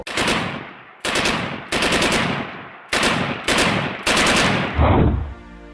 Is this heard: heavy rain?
no